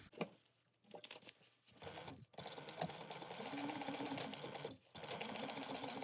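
A home sewing machine stitches a quilt block seam at a half-inch allowance, running in a steady close whir with brief pauses and restarts, no voices.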